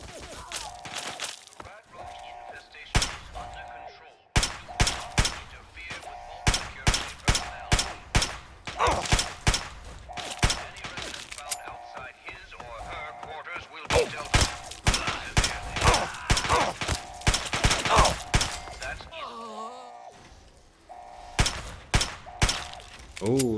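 Repeated pistol shots in Fallout 3, sharp loud cracks fired in quick irregular clusters throughout, with brief pauses and background game sounds between volleys.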